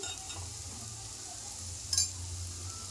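Ivy gourd (dondakaya) fries in a pan with a continuous close sizzle and soft stirring scrapes, a brief sharper clatter near the middle, and a low hum beneath; no one speaks.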